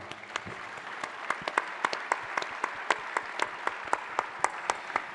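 A room of guests applauds the Queen of Arles at an awards evening for the 3M Trophy, steady clapping with individual sharp claps standing out close by, no speech over it.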